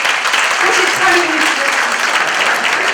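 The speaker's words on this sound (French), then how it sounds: "moi je trouve que vous devriez l'applaudir, parce que c'est elle qui organise." An audience at the opening plenary of a conference claps together, dense, loud applause that runs steadily for the whole stretch with a faint crowd murmur mixed in.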